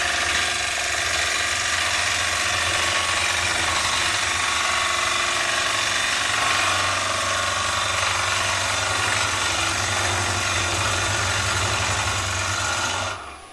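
A woodturning gouge chatters against a knot while hollowing a wooden ogee bowl on a lathe, a steady loud rasping, buzzing drone with the motor hum underneath, continuous for about thirteen seconds before easing off at the end.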